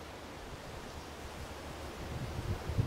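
Soft, steady wind rushing at a riverbank during fishing in windy weather, faint broadband noise that swells slightly toward the end, with no voices.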